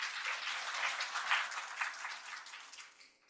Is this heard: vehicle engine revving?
no